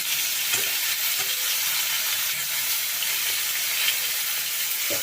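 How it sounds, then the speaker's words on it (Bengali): Eggplant pieces fry in a small amount of oil in a pan, giving a loud, steady sizzle with soft stirring scrapes throughout, no voices. "এইটুকু তেলেই কিন্তু আমি বেগুনগুলো ভাজবো"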